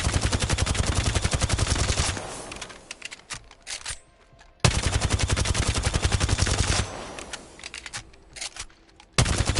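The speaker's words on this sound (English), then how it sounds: "So hold down the trigger and it's going to have almost the same pattern every single time." Volt submachine gun in Apex Legends fired with the trigger held down, two long sustained automatic bursts of rapid, evenly spaced loud shots, each trailing off into reload clicks and handling sounds, with no talking.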